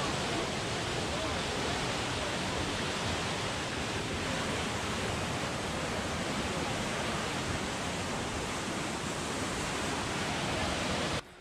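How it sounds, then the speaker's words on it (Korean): Spring water gushing like a waterfall at Tel Dan in northern Israel, a dense, steady roar of rushing water that holds constant and loud for the whole stretch before cutting off abruptly. "물소리 한번 들어볼까요?"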